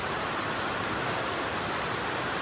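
Steady, dense hiss of heavy rain pouring down, constant and unbroken with no voices.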